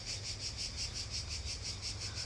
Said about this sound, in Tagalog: Narinig nyo yung mga tunog ng kuliglig.